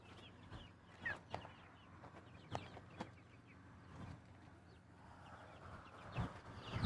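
Backyard hens around a chicken tractor give soft, scattered clucks and short calls, faint and somewhat distant over outdoor background noise, with no one talking.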